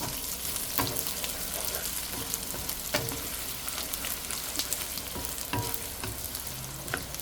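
Curry leaves sautéing in a pan with onions for a shrimp fenugreek curry, giving a steady close sizzle with frequent light stirring scrapes and occasional sharp crackles, no talking.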